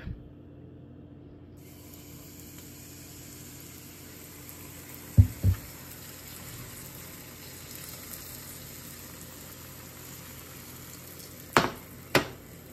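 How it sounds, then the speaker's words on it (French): Crêpes cook in a frying pan on a stovetop, a faint steady sizzle running under a high hiss, broken by a couple of pairs of brief utensil knocks. "on continue à faire cuire nos crêpes"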